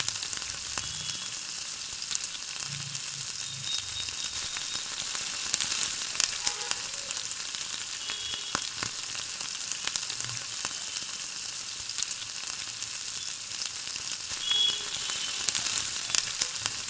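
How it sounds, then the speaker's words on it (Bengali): Steady sizzling and crackling as fried tangra fish are stirred in oily spice paste with potatoes, with faint scraping of stirring, continuous and close, no voices. "ওই ভাজা মাছগুলো এতে ছেড়ে দিয়ে আবার 2 মিনিট ধরে নাড়িয়ে চাড়িয়ে নিতে হবে"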